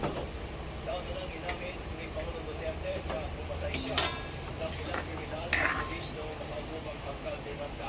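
A spoon stirs sautéed bitter gourd with egg in a pan, giving a steady low sizzle with scraping and a few clinks of utensil on metal. A voice talks now and then.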